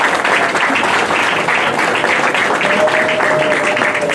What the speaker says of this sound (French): J'ai envie de bien l'encourager par vos applaudissements.